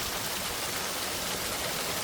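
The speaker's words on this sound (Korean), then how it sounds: "계곡 물소리에 이끌려 들어가 보니 시원합니다" Mountain valley stream rushing steadily nearby, a dense, even wash of flowing water with no pauses, fairly soft overall.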